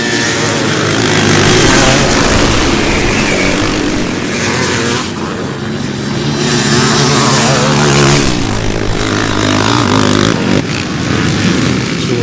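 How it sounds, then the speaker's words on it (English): Big-engine 2-stroke and 4-stroke motocross bikes, including a 4-stroke Yamaha, climbing Farleigh Hill at a veterans' race, several engines revving and droning together loudly and continuously, rising and falling as they pass. "let's have a quick listen to these big engine 2-strokes and 4-strokes as they make their way up the"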